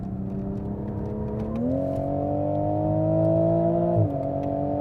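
A 2020 Toyota Supra driving fast on the Dubai Autodrome track, its engine droning steadily and rising in pitch as it accelerates, then dipping briefly near the end, loud and close with no talk.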